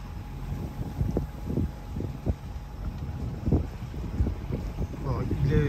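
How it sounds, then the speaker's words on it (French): Steady low wind noise from a light headwind buffets the microphone on a sailboat rounding Cape Malea, with water sloshing and soft thumps; a voice speaks briefly near the end. "Nous avons un léger vent de face qui va forcer au cours de la journée."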